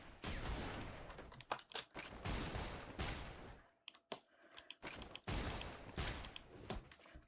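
Rapid bursts of gunfire from the Blast Breaker move in the Roblox battle game, sounding as loud dense volleys that break off briefly and then resume with sharp individual shots.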